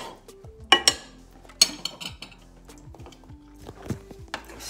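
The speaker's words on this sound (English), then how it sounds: "Stir it, stir it, stir it." A metal spoon stirs honey in a bowl while cooking a quick, budget meal, giving a run of close, sharp clinks and scrapes against the dish with softer rustling between them.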